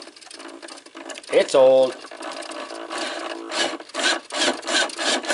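An old RC servo motor on a gas RC jet boat whirs in short bursts with a rising and falling mechanical buzz, close by, while a person talks over it.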